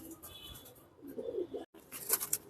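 Pigeons of fancy breeds coo softly in a loft, low throaty calls rising and falling over a couple of seconds, with a brief dropout midway and brighter chirpy sounds near the end.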